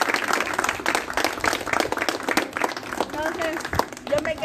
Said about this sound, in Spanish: un aplauso para sus autoridades también